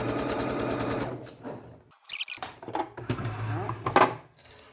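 A sewing machine stitching fabric runs in a steady close whir, then stops, followed by clicks, clatter and handling noises as the material is adjusted.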